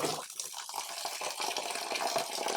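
Water runs and splashes steadily over soybean pulp in a sieve while making homemade soy milk, a continuous close trickling wash with no voices.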